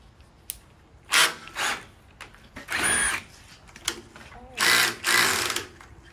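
A power drill bores into steel stairs in several short, loud whirring bursts separated by pauses, with faint background noise between them.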